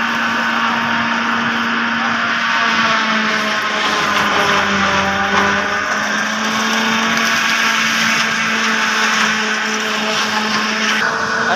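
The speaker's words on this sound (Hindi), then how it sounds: "मशीन की आवाज़ बहुत ज़्यादा वा" Silage-making machine chopping stacked maize stalks on a farm, a loud continuous mechanical roar with a steady whine and hum that stays constant throughout, with no speech.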